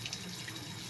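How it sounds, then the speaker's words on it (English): Tap water runs steadily into a sink to rinse off a pH meter while mixing plant nutrient solution, a close, continuous splashing hiss. "as you hear the water in the background, it's just rinsing off my meter"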